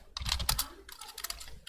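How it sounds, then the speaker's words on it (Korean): Rapid clattering keystrokes on a computer keyboard during fast-paced gameplay of a Battle Mage in MapleStory-style action, two dense bursts of tapping close to the mic with a short pause between, no voices. "지금 제 키보드 소리가 들리실지 모르겠는데"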